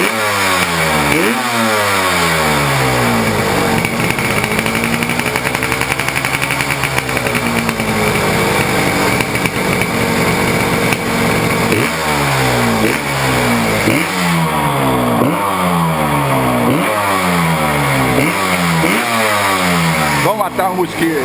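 A Yamaha RD350 two-stroke motorcycle engine revs repeatedly while warming up, climbing and dropping in pitch, with a steadier idle stretch in the middle; loud and close.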